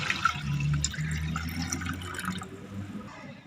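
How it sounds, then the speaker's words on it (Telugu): Water is poured into a bowl holding onion pieces, ginger, turmeric, chilli powder and tamarind juice, a close splashing gurgle that fades gradually over a few seconds, with no talking. "ఈ నీళ్ళు ఇందులో వేసుకోండి."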